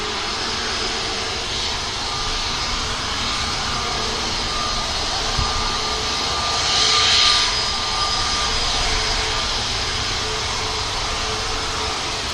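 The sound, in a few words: Airbus A321neo XLR airliner lining up on the runway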